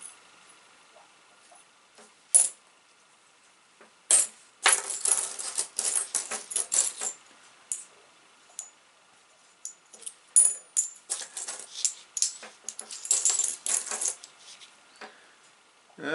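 Old metal coins from a season of detecting finds clink and rattle as they are sorted and dropped, bursts of sharp jingling taps with short pauses between, close and alone.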